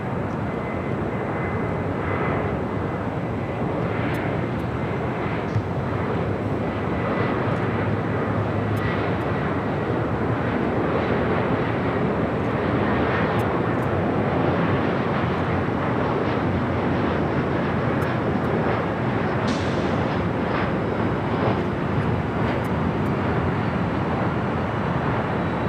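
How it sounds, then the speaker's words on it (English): An Alaska Horizon E-Jet airliner at LAX at night gives a steady, loud jet roar that fills the whole stretch without letting up; no one speaks. "This is the Go Cougs E-Jet Alaska Horizon."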